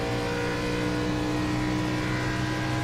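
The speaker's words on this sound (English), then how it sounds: "And the engine sounds fine" Race car engine in a sim racing game, a steady continuous drone with layered harmonic tones held at constant level throughout, no talk.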